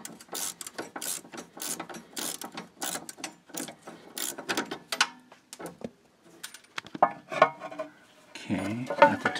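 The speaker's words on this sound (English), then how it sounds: "Now I just have 2 wrenches, and I'm going to remove the nut." Wrenches work a nut off a rear sway bar link on a W126 Mercedes-Benz S-Class, giving quick bursts of metallic ratcheting clicks and clinks with short pauses, close and fairly quiet, with no talking.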